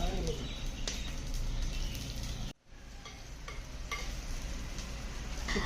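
Onion, green chilli and tomato sautéing in a pan over a wood-fired stove, a steady broadband sizzle with scattered stirring clicks and a brief drop to near-silence midway.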